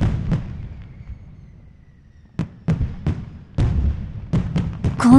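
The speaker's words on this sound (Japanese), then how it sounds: "打ち上げ花火。" Aerial fireworks bursting in the video game Otome-Break!, a string of sharp booming pops, one early and then several in quick irregular succession, each with a short rumbling tail over a low background.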